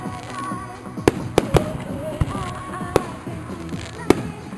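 Summer fireworks go off over a lookout by the water, a quick run of sharp cracks and booms at uneven intervals over crowd noise and distant music.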